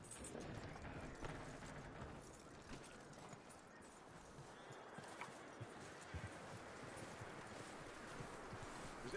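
Horse hooves clip-clop along a trail in Red Dead Redemption 2, a faint, steady rhythm of hoofbeats under light wind noise, with no talking.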